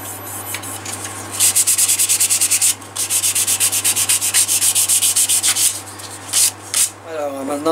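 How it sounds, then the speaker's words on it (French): Hand sanding of a wood-turned teapot lid on a lathe: rapid rhythmic rubbing strokes in bursts, loud and close, with short pauses between passes over a low motor hum. "Un petit coup de ponçage."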